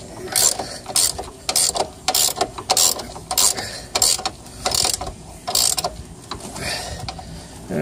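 A ratchet wrench clicks in repeated short bursts while turning an upper control arm bolt on a 1999 Ford Expedition, the rhythmic pawl clatter close and loud with brief pauses between strokes.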